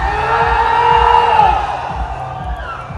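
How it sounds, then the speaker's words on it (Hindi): A large crowd at a creator meetup in Lucknow cheers, whoops and shouts loudly and close by, a sustained roar of voices that swells and slowly fades over a few seconds. "तो एक बार फुल पावर हल्ला मचा दो फॉर लखनऊ"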